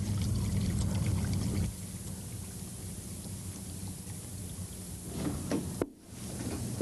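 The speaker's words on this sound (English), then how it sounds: "you're welcomed into the house by this still bubbling Roman sarcophagus" Water gurgles and splashes steadily at close range in a fountain made from a Roman stone sarcophagus, with a low bubbling rumble that eases midway, then a brief clatter near the end.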